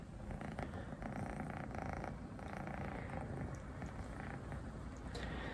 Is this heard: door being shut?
no